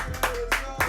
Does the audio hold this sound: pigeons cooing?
no